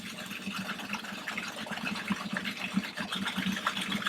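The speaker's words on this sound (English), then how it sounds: "Add just a little bit of water." A little water is poured into a hot pan while scallops, corn puree, mushrooms and squash are cooked, giving a soft, continuous sizzling and splashing hiss at low, even level for about four seconds.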